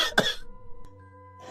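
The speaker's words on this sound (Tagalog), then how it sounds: "Baka lalo akong dalahitin ng ubo." A single cough with a throat-clearing rasp from someone who is ill, close and fairly quiet, followed by a low steady hum.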